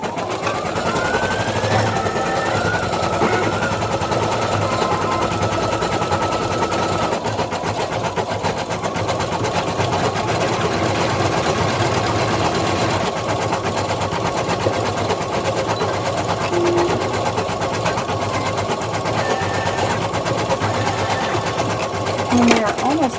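An embroidery machine stitches a small bulldog design, a loud continuous rapid needle chatter with shifting whine tones, steady and close throughout.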